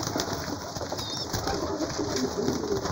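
A crowded flock of pigeons fills a pigeon loft with steady, overlapping low cooing and rustling, close and continuous with no voices.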